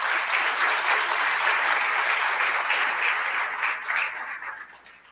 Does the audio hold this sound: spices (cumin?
no